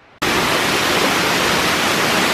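A waterfall in Laos cascades over what were once stone stairs, a loud, steady broadband rush that bursts in abruptly and then holds constant and close.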